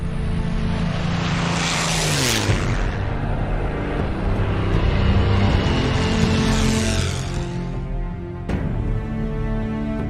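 A WWII propeller airplane engine roars loudly and close, with its pitch sweeping down as the aircraft passes, then swelling again into a steady droning rumble.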